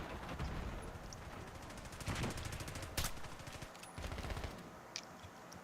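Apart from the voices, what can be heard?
sniper rifle shots in a video game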